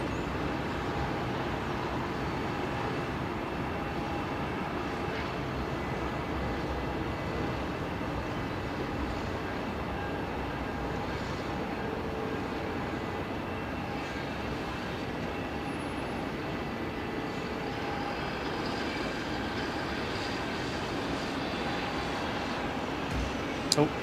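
A China Airlines airliner arriving at Melbourne Airport makes a steady, broad roar heard from a distance, holding at an even level throughout.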